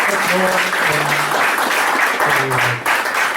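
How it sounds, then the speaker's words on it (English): A crowd applauds during an amateur radio contact with the International Space Station, a continuous, loud wash of clapping with faint voices mixed in underneath. "Do you hear the crowd?"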